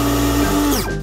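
An electric blender whirs steadily while frothing milk for coffee in a home kitchen, then its motor winds down and stops near the end.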